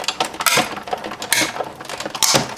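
A Big Shot die-cutting machine is cranked by hand, a run of clicking, ratcheting and creaking mechanical bursts in an uneven rhythm, close and fairly loud with no talk.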